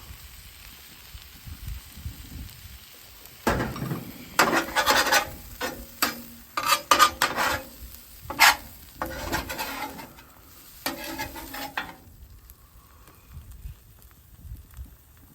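Freshly grated cheddar cheese scattered across a Denver omelette cooking on a Blackstone flat-top griddle, heard as a cluster of soft, rapid rustling and scraping bursts over a low steady sizzle, with no voices.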